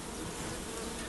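Honey bees swarm around a bait hive with a dense, continuous buzzing hum, close and steady throughout.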